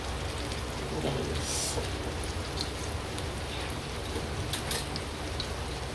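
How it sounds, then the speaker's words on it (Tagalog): Rain falls steadily during a rainy-season downpour at home, a constant broadband hiss with scattered louder drop impacts, close and even throughout with no talking. "umuulan na naman dito sa amin"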